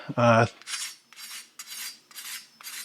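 A crispy keto low-carb taquito made with a low-carb tortilla is cut with a knife, giving a series of five dry crunching rasps at a steady pace, preceded by a short tonal clink.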